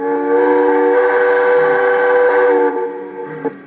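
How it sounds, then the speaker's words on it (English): An MTH model train's quillable whistle sounds one long, steady, loud blast that cuts off, followed by a brief quieter toot near the end. "for engines that have quillable whistle, you can adjust this function here"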